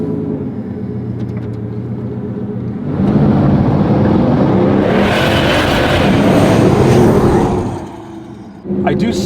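A flood-damaged Bugatti Veyron under rebuild, creeping in reverse; an engine rumble swells into a loud, strained roar for several seconds, then drops back, with people talking over it.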